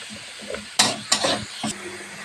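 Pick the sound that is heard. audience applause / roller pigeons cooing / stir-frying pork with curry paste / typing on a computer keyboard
stir-frying pork with curry paste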